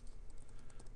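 Quick run of keystrokes on a computer keyboard, a dozen or so light, close clicks in an uneven rhythm over a soft background hum, with no talking.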